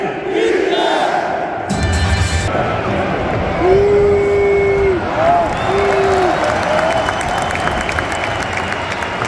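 A large stadium crowd at the Austria versus Turkey football match in Vienna's Happel stadium boos in a sustained, roaring wash, with whistles rising over the dense crowd noise.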